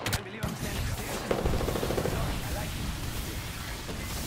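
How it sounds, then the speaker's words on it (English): Loud, sustained automatic gunfire rattles continuously in the battle royale shooter Apex Legends, dense and close with game effects layered over it. "Two people were shooting me."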